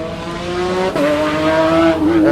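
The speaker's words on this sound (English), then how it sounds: "Here's another sound, Le Petit Train." Le Petit Train, a small tractor-like tourist road train towing three little carriages, drones past nearby with a loud, steady engine note that steps up and down in pitch as it moves.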